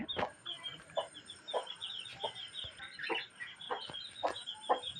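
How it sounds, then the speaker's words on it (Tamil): A hen with chicks clucks repeatedly in a steady, soft rhythm, with a constant insect-like hum in the background. "குஞ்சு பிடிச்ச கோழி"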